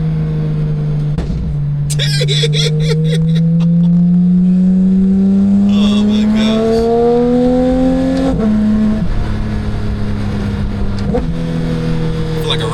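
A 2022 Porsche 911 GT3 engine revving through its gears from inside the car, a loud rising howl that climbs, drops at each shift and climbs again, with a person exclaiming over it.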